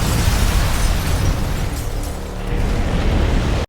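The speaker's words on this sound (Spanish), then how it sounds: "Tras la explosión" An explosion in an action film scene: a loud, sustained roar with deep rumbling and crackling debris, steady for several seconds with no voices, then cutting off abruptly.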